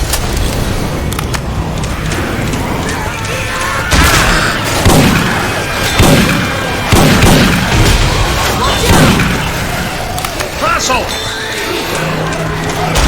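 Explosions and rapid gunfire in Left 4 Dead 2 with Syphon Filter weapon sounds, loud repeated booms and bursts of shots over a continuous chaotic din, with voices calling out among them.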